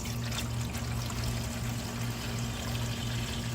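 Cold water pours from a pitcher into an outdoor appliance on a patio, a steady, close splashing stream running continuously under a low background hum.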